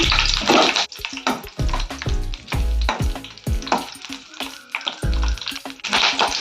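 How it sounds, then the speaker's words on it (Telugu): Green chillies hitting hot oil in a kadai burst into loud, close sizzling and spitting, with sharp crackles rising and falling in repeated surges. "ఆయిల్ వేడెక్కినాక పచ్చిమిరపకాయలు వేసుకున్నాం"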